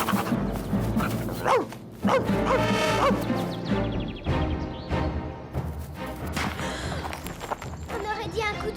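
Calino, a dog in the animated film Les Malheurs de Sophie, barks among busy music and other sounds, with people talking over it.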